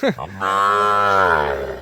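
A Sahiwal bull moos once, loud and close, in a long drawn-out call that holds steady and then tapers off, with no voices over it.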